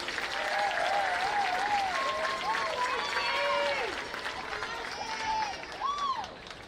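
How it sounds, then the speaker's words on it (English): Crowd applause and cheering for the homecoming court at a high school football game between the Shady Spring Tigers and Greenbrier East Spartans, steady and loud throughout with scattered voices calling out over it. "let's give a big round of applause to our 2025 Homecoming Court"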